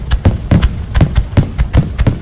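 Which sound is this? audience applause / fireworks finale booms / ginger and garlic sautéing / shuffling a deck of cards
fireworks finale booms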